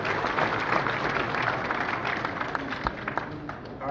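Audience applause at a Hot Wheels Collectors Nationals event: a steady wash of clapping from a crowd in a hall, filling all four seconds with a few sharper claps standing out near the end.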